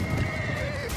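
Horses in the Conqueror's Blade battle game give a loud, close neigh with a wavering whinny, layered over rapid clip-clop hoofbeats of galloping in one brief burst.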